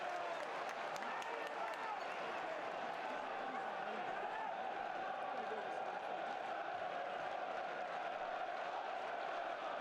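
Crowd noise fills The Den, Millwall's stadium, during a Millwall versus Sunderland football match, a dense, constant roar of voices and chatter from the stands with scattered claps, steady and fairly distant.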